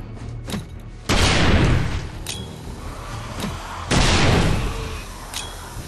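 Grenade explosions in a zombie video game, two loud, deep booms a few seconds apart, each rolling off into a long rumbling tail, with smaller thuds between.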